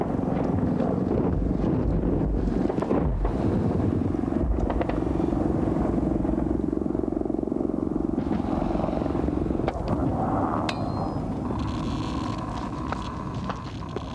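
A Soviet Mi-24 armored helicopter gunship droning continuously at a distance, its rotor and engine rumble heavily buffeted by wind noise over the microphone, steady for the whole stretch without speech.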